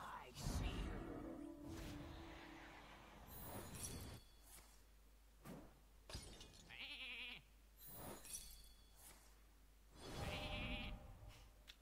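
A cartoonish sheep bleat from the video game Hearthstone sounds among other spell effects and game chimes, clear and close in the middle of the busy game audio.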